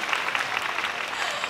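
Concert audience at a concert in Hong Kong applauds, a dense, steady wash of many hands clapping at once, fairly loud and continuous with no voices standing out.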